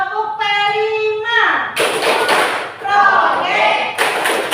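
A group claps together in a quick rhythmic pattern for a classroom clapping chant, loud and close, mixed with children's voices chanting along.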